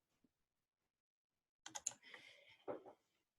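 A computer keyboard being typed on in a quick burst of close, crisp key clicks after a near-silent pause, with no talk.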